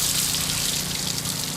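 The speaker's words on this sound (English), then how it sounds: "An open spigot offers the first taste of water" Water runs steadily from an open outdoor spigot in a hurricane-stricken area, a continuous hissing splash that stays even throughout with no voices.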